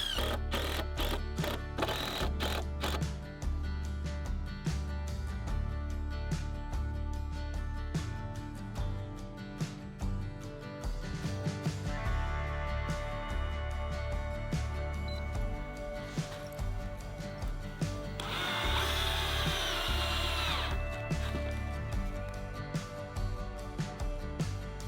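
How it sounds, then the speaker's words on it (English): Power drill driving screws into deck boards at a homestead build, a series of short whirring bursts with clicks and ticks between them, fairly close and moderately loud. "and then there's a lot of screwing to be done."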